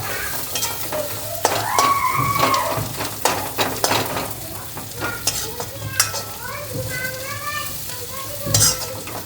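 Chopped onion sizzles in a pan for sambar while a spoon stirs and scrapes it in repeated strokes, close and steady, with faint background voices of children and a few short whistling squeaks.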